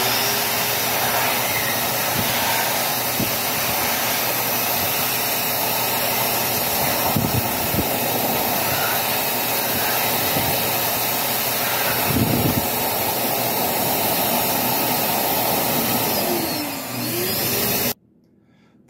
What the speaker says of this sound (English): now we're going to dry the hands with the air towel